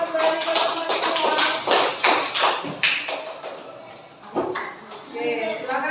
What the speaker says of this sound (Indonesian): Beri aplaus untuk kelompok